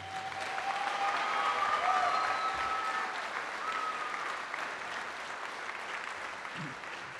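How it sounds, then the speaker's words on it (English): Sustained round of applause at a Bucks County Community College commencement ceremony, broad crowd clapping that swells then gradually eases, with faint tones and murmurs underneath. "Let's give him a round of applause."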